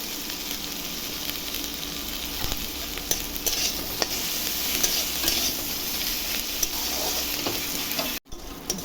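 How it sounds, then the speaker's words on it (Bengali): Onions and tomatoes with salt fry in a pan while a spoon stirs them, giving a constant soft sizzle broken by scraping strokes and small clicks, followed by a brief drop near the end. "পেঁয়াজগুলোর সঙ্গে এখন টমেটোটাও দিয়ে দেবো, ভালো করে ভাজবো।"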